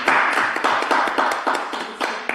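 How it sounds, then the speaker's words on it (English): Applause at a township regular council meeting, a burst of many hands clapping in a dense, even patter that holds steady across the clip and slowly thins toward the end, with no talk over it. "Or applause?"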